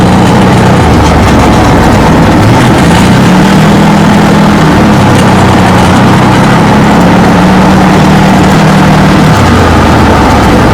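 A Massimo Militia 1000 UTV engine runs smoothly and loudly up close, holding a steady low rumble that rises and falls slightly in pitch as the revs shift, with no misfiring.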